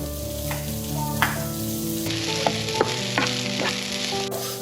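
Broccoli sautéing in a pan with onion and garlic, a loud, constant sizzle with several sharp clicks and scrapes from stirring, and a steady hum underneath.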